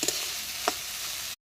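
Food frying with salt and turmeric gives a steady close sizzle, with a couple of brief scraping stirs, before cutting off abruptly.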